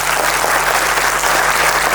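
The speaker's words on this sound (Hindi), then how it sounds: "जिस ग्रुप ने कार्यक्रम किया है उस ग्रुप के लिए पहले जोरदार ताली बजाओ" A crowd at a Navodaya school gathering claps loudly and steadily for a group that has just performed, a dense, continuous wash of applause with no voices over it.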